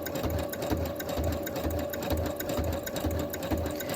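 A sewing machine stitches through a chipboard writing board with a steady, even motor whir and regular rapid needle thumps, close and continuous with no talk.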